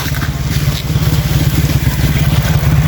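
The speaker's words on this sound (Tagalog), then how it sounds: "may motorsiklo" A motorcycle engine runs close by on a rural road through wooded country, a steady low rumbling drone with slight revving pulses throughout, loud and continuous with no talk over it.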